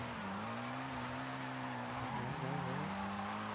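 Car tires squealing in a sustained high-speed drift in the racing game Forza Horizon 5, a steady engine drone under a long screech that wavers in pitch and swells slightly near the end.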